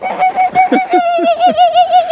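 A person vocally imitates the laughing, monkey-like call of a kookaburra, a loud series of rising whooping hoots and cackles repeated rhythmically up close with no other talk.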